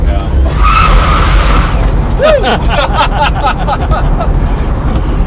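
An electric-converted BMW M3 race car surges forward and loses traction, a loud tire squeal and skid sweeping up over rumbling road noise, with voices talking alongside.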